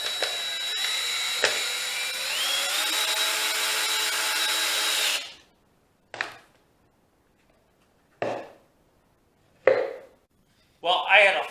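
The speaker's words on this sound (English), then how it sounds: "So I'm going to throw in a 3-inch deck screw, about 3/4 to 1/2 inch down and roughly centered" A power drill drives a 3-inch deck screw into wood for a squirrel feeder, one sustained whirring run of about five seconds, followed by several short bursts of driving, close and loud.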